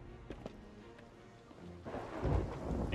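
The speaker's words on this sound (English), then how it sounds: "No, there's still storm here, mate." Thunderstorm in the pirate game Sea of Thieves, a low rumble of thunder swelling under steady rain, fairly quiet and alone.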